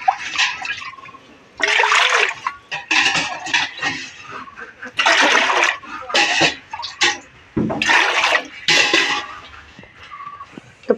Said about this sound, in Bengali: হাঁড়ির মধ্যে দিয়ে দেবো পানি